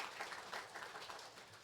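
Church congregation applauding in a sanctuary, a faint, steady wash of clapping with rhythmic pulses, heard from a distance without any voices over it.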